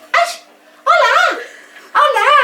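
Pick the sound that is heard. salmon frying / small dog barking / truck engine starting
small dog barking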